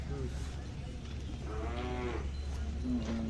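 Khillar cattle at a livestock market in Pandharpur give a couple of short moos, one mid-distance and a brief higher call near the end, over steady crowd hum.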